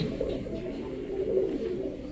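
A male silver giribaj pigeon coos softly at close range, a low, rolling murmur that carries on through the whole moment over a quiet background.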